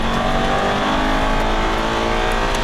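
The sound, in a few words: Aston Martin V8 Vantage accelerating on race track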